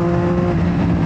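A Triumph Street Triple motorcycle with a decat exhaust runs in a steady, loud engine drone with a strong low hum and no voices.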